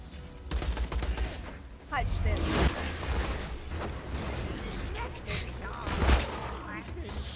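Gunfire in the video game Borderlands 2 crackles in rapid bursts and repeated shots over a few seconds, mid-distance and fairly loud, while players talk over the action.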